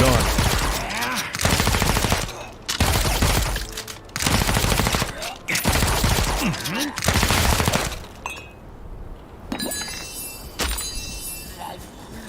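SMG fire in a fantasy MMO video game: long, loud automatic bursts follow one another with short breaks between them, then the shooting gives way to quieter scattered effects.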